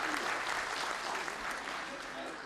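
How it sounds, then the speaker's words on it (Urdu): An audience at a mushaira poetry gathering breaks into loud, continuous applause, a dense wash of clapping that holds steady throughout and then eases slightly at the end. "زوردار تالیوں سے ان کا استقبال کریں"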